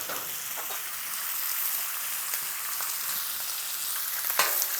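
Onions grilling on a flat griddle with no oil give off a steady, close, moderately loud sizzle throughout, with a few faint scrapes and a brief clatter near the end.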